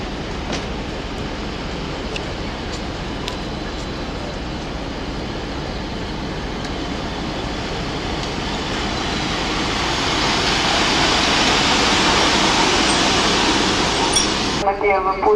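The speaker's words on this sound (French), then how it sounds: "notre rame est amenée en gare de Brest côté russe" A Trans-Siberian train rolls slowly into Brest station on the Russian side after being fitted with new Russian-gauge bogies, a steady low rumble of wheels and carriages that grows louder toward the end before cutting off.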